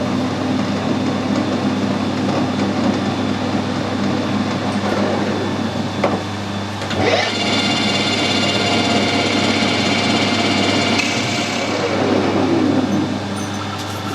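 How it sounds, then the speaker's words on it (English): A metal lathe runs steadily in low gear after sitting idle, its gearbox oil being circulated; a continuous mechanical whir with a constant hum, loud and close, with a few brief clunks and shifts partway through. "I've just run the lathe in low gear for a little bit to get the oil circulating around the gearbox."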